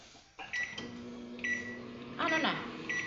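A microwave oven running to pop a bag of popcorn, with a steady low hum, several short high beeps from the keypad, and a clatter of handling around the door midway, while people talk faintly in the room.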